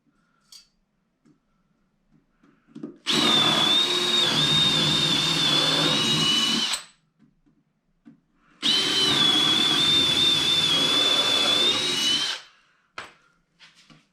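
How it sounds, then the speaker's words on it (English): A power drill boring holes into wood while building a raised garden bed. Two loud, steady bursts of a few seconds each whine close up, with quiet handling noises around them. "I'm just going to put a couple holes in."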